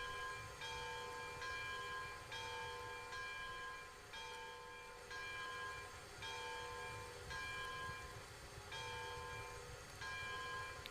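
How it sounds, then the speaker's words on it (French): A locomotive bell in Railroads Online rings over and over, steady clangs roughly every three-quarters of a second, each one sustaining into the next above the low rumble of the train, with no one talking. "Par contre, j'ai réussi à la mettre, la cloche,"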